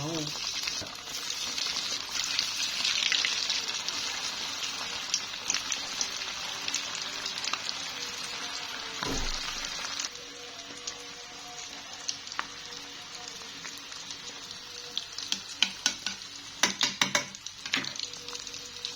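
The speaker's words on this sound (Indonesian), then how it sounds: "aku goreng pakai minyak banyak, tapi gak bikin hitam juga kok" Eggplant frying in plenty of hot oil, a steady broad sizzle that crackles strongly at first and then settles lower, with scattered pops and utensil clatter near the end.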